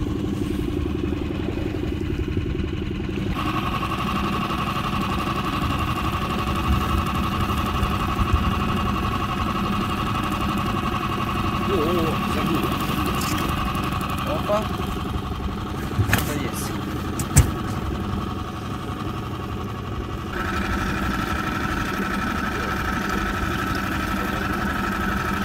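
Motorboat outboard engine running steadily on an autumn fishing trip out to pike floats, a loud continuous drone with a shift in pitch partway through and small clatters on top.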